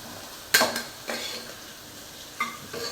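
Chicken biryani masala frying in a pan, a soft background sizzle marked by a few sharp scraping stirs of a spoon against the metal, near and with no voices.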